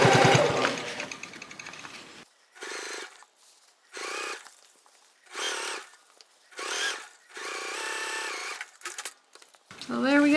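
A sewing machine stitching the inside of a shoulder bag, sounding in several separate bursts of steady mechanical whirring with short pauses between them, while a person talks at the start and end.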